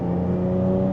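A Jaguar F-Type S engine drones at a steady pitch under light throttle, a loud, close, tonal hum lasting about a second with no voices.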